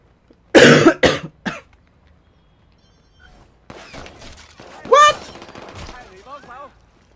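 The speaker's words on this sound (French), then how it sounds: "Mais ça tire à vue dans ce jeu," Gunfire in Watch Dogs 2, a loud close burst of several rapid shots at the start, then quieter scattered sounds and a voice talking afterward.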